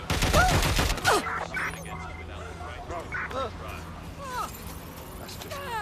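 Gunfire in the video game Watch Dogs: Legion: a rapid burst of loud shots at the start, then scattered game effects and chirpy sounds, while people talk over it.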